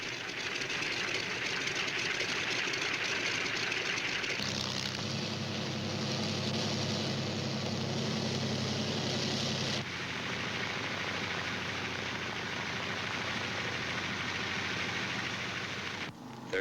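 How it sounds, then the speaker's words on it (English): C-47 transport aircraft engines rumble and drone steadily as the planes move into position at the head of a runway for takeoff, a dense noisy roar that shifts in tone twice, no talk. "other C-47s move into position for their takeoff at the head of the runway"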